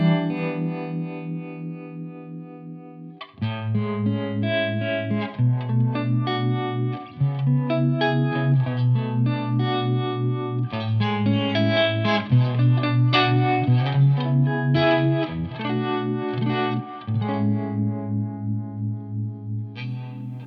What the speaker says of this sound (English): The first one is a harmonic tremolo.